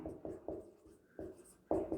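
Chalk or marker taps and strokes on a board during a chemistry lesson, a series of short close scratchy bursts with pauses in between, no talk over them.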